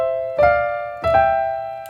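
Piano double thirds from a Czerny op. 599 beginner exercise, two struck intervals whose notes land a split second apart, each ringing and fading alone up close with no talking.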